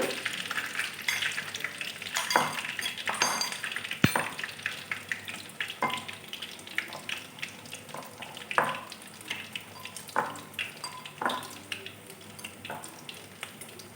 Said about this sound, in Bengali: এবার আমি লাল লাল করে ভেজে তুলে নেব